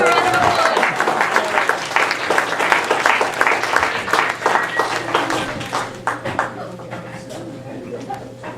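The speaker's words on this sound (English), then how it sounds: "Give him a round of applause." Coffeehouse audience applauding a performer as he is introduced, a lively round of dense clapping that thins and fades over several seconds, with some voices underneath.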